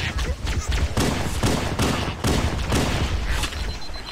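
Rapid bursts of gunfire from Halo: Combat Evolved, including pistol shots, fill the whole stretch loudly and densely, with repeated blasts and rattling volleys piling on top of one another.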